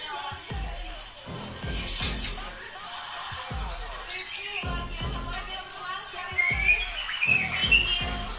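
A white-rumped shama (murai batu) sings in bright chirps and varied trills while rhythmic thumps and rustling from the bird hopping in its cage sound close by. No one talks.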